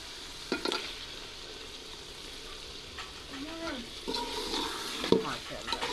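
Spice masala frying in a pot over a village stove, stirred with occasional scrapes and soft sizzling, the stirring strokes clustering near the start and end, at a modest level with no talk.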